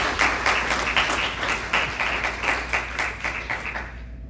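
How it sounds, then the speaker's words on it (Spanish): A church congregation applauds steadily for several seconds, a dense wash of many hands clapping at moderate distance with no voices over it, tapering off at the end. "Yo creo que Él se merece un aplauso"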